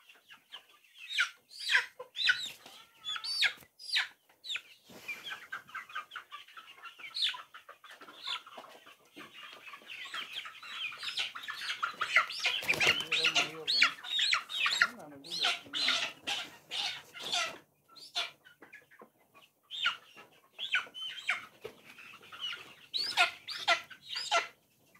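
Vaccinated chickens on a Kenyan poultry farm clucking and squawking in repeated bursts, with a busier, denser stretch in the middle, moderately close.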